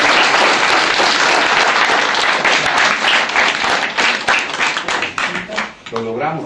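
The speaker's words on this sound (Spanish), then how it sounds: "un aplauso para Oscar" Applause for a taekwondo student at a black belt and Dan certificate ceremony in Zacapu: a full crowd claps steadily and loudly, then thins into scattered separate claps near the end.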